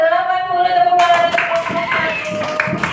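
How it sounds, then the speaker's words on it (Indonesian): A classroom of pupils claps together for a group's result, the scattered, moderately loud clapping starting about a second in after a brief held vocal tone. "Tepuk tangan."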